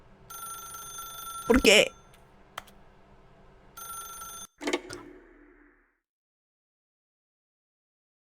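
Telephone ringing in the video game The Stanley Parable, with two separate bursts of electronic ringing parted by a pause. A voice cuts in loudly over the first ring and a short spoken exclamation follows before silence.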